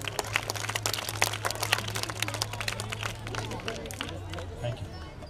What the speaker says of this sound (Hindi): पिया ग्रेस के लिए पर जोरदार ताली हो जाए